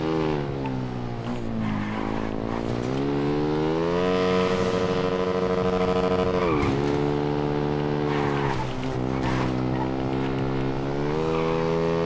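Motorcycle engine in a video game, a steady droning whine that rises and falls as the bike accelerates and shifts, loud and continuous throughout.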